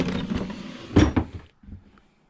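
A drawer in a tool trailer holding carpentry tools and drill bits slides open with a short rattle and a sharp knock near the middle, then falls quiet after a small final clunk.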